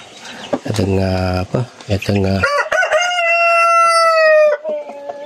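Rhode Island Red and Wyandotte hens clucking and crowing nearby, loud and close, with short repeated calls followed by one long drawn-out crow, while a person talks over them.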